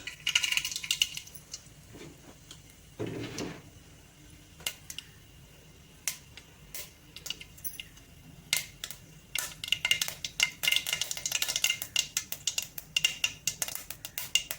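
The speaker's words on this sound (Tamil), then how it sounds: "கடுகு நல்லா பொரிஞ்சிருச்சு" Mustard seeds and urad dal splutter in hot oil with sharp, crisp pops, sparse and scattered at first, then crowding into rapid crackling bursts near the end, close and distinct with no talk.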